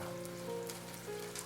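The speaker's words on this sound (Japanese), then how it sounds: "雨。" Steady rain falls on a surface in a Japanese manga-style drama, a soft continuous patter with light drops and a faint tonal hum underneath, no talk.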